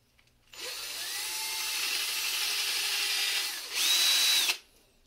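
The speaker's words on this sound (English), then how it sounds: "A little walking back and forth with the drill bit to" An electric drill enlarging a hole in a toy whirs steadily for about three seconds, then revs higher in pitch for a short burst before stopping.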